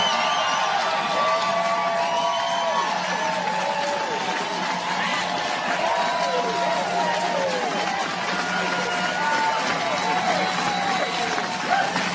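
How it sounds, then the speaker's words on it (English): Audience applause and cheering at a motivational seminar, a dense, steady roar of clapping and whoops that runs evenly throughout without any break. "Give yourselves a round of applause."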